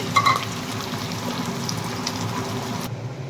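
Green chillies and onions frying in hot oil for mutton curry give a steady, close crackling sizzle that runs evenly with a small pop near the start and no talk.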